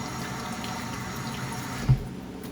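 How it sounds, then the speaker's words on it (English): Tap water runs steadily into a sink as hands are washed clean of flour. The water rushes close and constant, with a brief splash near the end. "I'll wash the flour off my hand."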